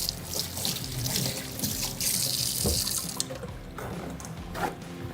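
Tap water runs steadily into a kitchen sink for hand washing before handling raw filet mignon, a continuous splashing hiss with a few louder drips and splatters near the end, close and alone.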